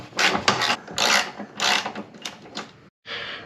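Bolts are worked loose and removed from a BMR strut tower brace on a GTO, heard as close, short bursts of ratcheting and scraping metal in an uneven rhythm, with a brief silence near the end.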